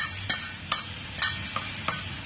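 Dried karandi shrimp sauté with onions in a pan, a steady sizzle punctuated by five evenly spaced scraping strokes of a spatula, close up and with no talking.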